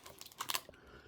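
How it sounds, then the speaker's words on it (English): Crisp crunching bites into a homemade tostada shell topped with chicken and beans, a few sharp close crackles clustered in about a second, with no talking. "hear that crunch?"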